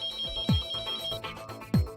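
A mobile phone rings inside a garment shop, its electronic ringtone repeating in short bursts, clear and fairly close.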